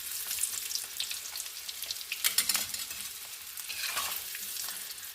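Potato pieces sizzle and crackle steadily in hot oil, with stirring and scraping noises as they are lifted out of the pan; busy frying hiss throughout with no talking.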